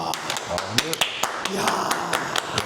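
Clapping from a few people in a studio setting, scattered sharp claps repeating unevenly under ongoing talk and laughter.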